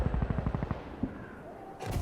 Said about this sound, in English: Is he shooting me through the smoke?